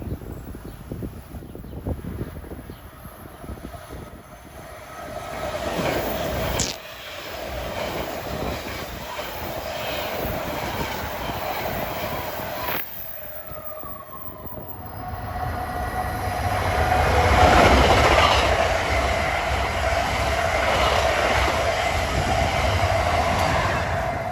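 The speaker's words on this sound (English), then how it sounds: "Was train 3949, New York Trenton, one of those hotshot Princeton Junction Expresses out of Newark" NJ Transit express train 3949, New York to Trenton, races past on the Northeast Corridor at Linden, New Jersey, a loud, sustained rumble of wheels and rails that swells as it nears, with brief horn-like tones and a hissing, clattering rush at its peak.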